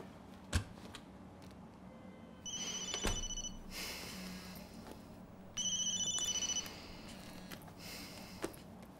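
A telephone rings twice, each ring a short, faint electronic trill lasting about a second, separated by a quiet stretch with faint room noise.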